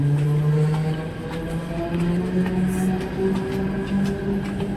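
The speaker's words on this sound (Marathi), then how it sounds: "दिवा स्टेशनवरती एवढा रश आहे की ट्रेनमध्ये चढताच येत नाही आहे" A train at crowded Diva railway station gives a loud, steady rumble with sustained humming motor tones that shift slightly in pitch, close by and continuous.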